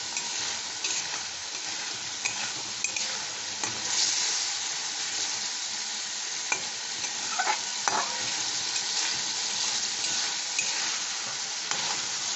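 A pea lentil fritter curry mixture frying in a pan with a little water, steady soft sizzle with intermittent scraping and stirring clicks of a utensil.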